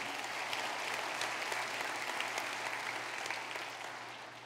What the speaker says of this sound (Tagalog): Pwede bang kusog nga palakpak para sa Dios?